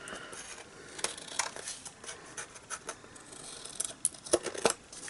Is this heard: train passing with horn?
no